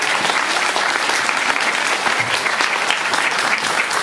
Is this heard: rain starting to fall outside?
no